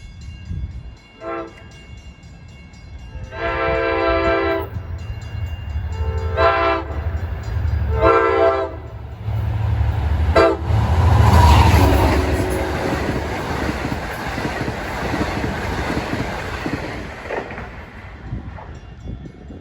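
Long Island Rail Road train 664, running from Hunters Point Avenue to Port Jefferson, sounds its horn at the New Hyde Park Road grade crossing. A short toot is followed by three long blasts, then the loud rumbling roar of the train passing close by.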